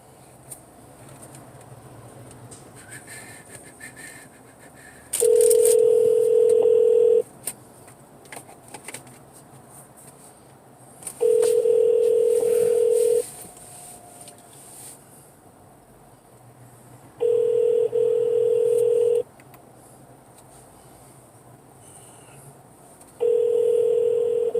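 Phone tones sound during a call placed from a car while driving to work: four identical steady beeps, each about two seconds long, repeat at even six-second intervals over quiet cabin hum.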